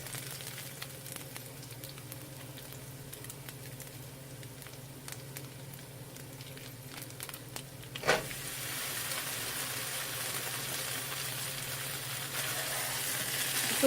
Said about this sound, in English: Now I'm going to go ahead and add the chorizo in.